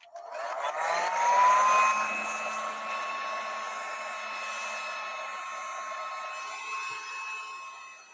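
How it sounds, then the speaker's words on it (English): A heat gun runs with a steady, loud blowing whine that rises sharply at the start, then settles into a constant airy hum through to the end, with no voices over it. "Heat gun."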